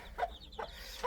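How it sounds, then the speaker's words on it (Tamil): Edavettu and parrot-beak Aseel chickens on a farm near Chennai give a few faint, brief clucks, spaced apart and quiet. "இது வந்து எடவெட்டு கோழி."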